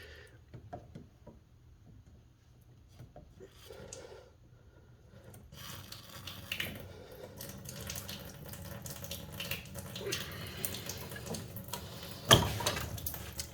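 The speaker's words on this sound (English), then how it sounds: "we have a little bit of water coming out" Water trickles and splashes from a leaking PEX pipe connection into a bucket, faint at first and then a steadier spatter, with rubbing and handling noises close by and no one speaking.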